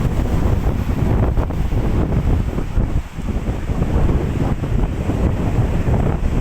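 Strong wind roars across the microphone in a continuous loud rush at Ilıca Beach in Çeşme, Turkey, with the faint wash of surf beneath and no talking.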